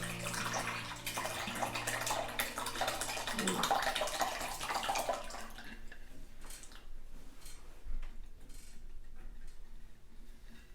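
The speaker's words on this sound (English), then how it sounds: "I have a big glass bowl, and I'm just going to pour my kefir." Kefir pours steadily into a big glass bowl for several seconds, then trails off into quieter, sparse background sounds.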